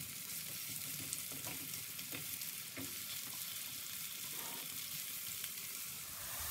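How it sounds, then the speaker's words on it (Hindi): Chopped onion softens in a quarter cup of oil in a pan as the base for tawa chicken. A quiet, steady sizzle and crackle continues without pause, and no one speaks. "प्याज को हम हल्का नरम करेंगे। तेल हमने डाला है 1/4 कप।"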